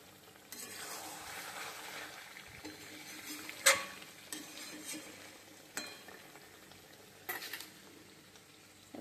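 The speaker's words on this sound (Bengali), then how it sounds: "আদা বাটা, জিরে বাটা, লাল মরিচের গুঁড়া আর কাশ্মীরি লঙ্কার গুঁড়া, টমেটো পেস্ট আর রসুন বাটা, পেঁয়াজ বাটা সব কিছু দিয়ে ভালো করে কষিয়ে নিচ্ছি" Onion, ginger, cumin, chili, tomato paste and garlic pastes being sautéed in a pan: a faint, steady sizzle broken by occasional scrapes and taps of a spoon stirring.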